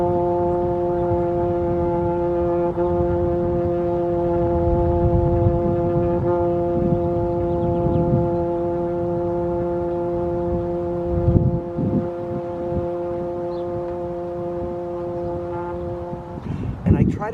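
A trombone sustains slow, straight long tones starting on middle F, each note held steadily without vibrato, with light breathy noise and a couple of brief bumps between notes.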